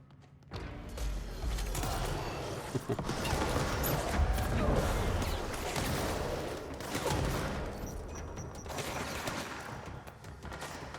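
Gunfire aimed at an enemy in the video game Control: sustained rapid volleys of shots rattling for most of the stretch after a quiet start, loud and dense, with speech mixed in at times.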